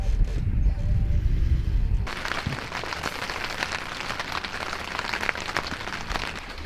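Heavy rain pouring down during Panama's rainy season, a dense steady hiss of drops pattering on surfaces that starts abruptly after a low rumble and continues unbroken, no voices.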